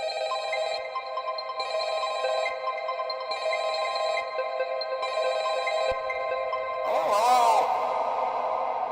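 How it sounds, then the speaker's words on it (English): Repeated ringing of a telephone from the Five Nights at Freddy's games, four evenly spaced electronic bell bursts with echo, followed by a sweeping whoosh at the end. "I use the ringing sound and the hello hello from the games"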